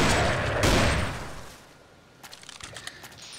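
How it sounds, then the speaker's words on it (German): A few heavy magnum revolver gunshots in a video game boom close together, then fade into a quieter stretch with faint clicks and scattered small impacts. "Viel Schuss haben wir leider nicht mehr für die wundervolle Le Magnum."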